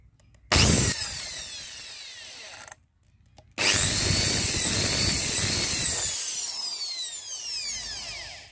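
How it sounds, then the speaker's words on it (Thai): Power drill boring out the small jet of a square-bodied K carburetor, two bursts: a short loud whir, a brief pause, then a longer steady high-pitched grinding that slowly tapers off, close up with no talk. "นี่จะมาทำการเจาะนะครับขยายหน่อยนึงนะครับ"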